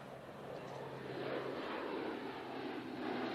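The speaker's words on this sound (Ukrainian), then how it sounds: "Польоти виконує і транспортна авіація." A military transport aircraft flying during a training exercise gives a steady, faint droning engine rumble with a broad, even wash of noise, heard at a distance with no speech.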